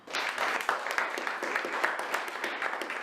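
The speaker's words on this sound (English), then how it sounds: "just give yourself a round of applause," A room of attendees at a motivational day claps together, a lively, even burst of applause at moderate loudness that carries on without voices.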